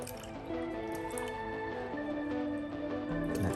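Sea water pours from a bucket into a jug, a steady liquid stream with dripping and sloshing as the jug fills toward the two-litre mark, close and continuous throughout.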